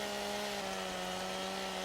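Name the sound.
chainsaw cutting in video game Farming Simulator 17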